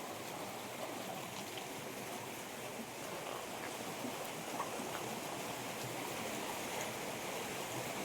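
Stream water flowing through Seshachalam forest, a soft steady rushing wash heard at a distance, even and unbroken throughout, with no voices.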